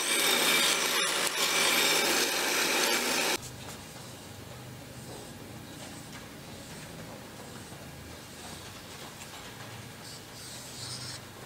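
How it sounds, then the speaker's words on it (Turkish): A belt sander grinds down the width of a knife handle in a workshop, making a steady, dry abrasive hiss that is loud for a few seconds and then continues more quietly without pause. "Bant zımparayla kabza enini benim elime uyacak şekilde küçültüyoruz."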